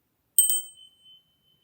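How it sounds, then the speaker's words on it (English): A small bell is struck twice in quick succession, its clear high ring fading away over about a second in a quiet room. "we'll ring our bell"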